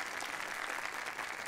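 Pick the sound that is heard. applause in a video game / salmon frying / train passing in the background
applause in a video game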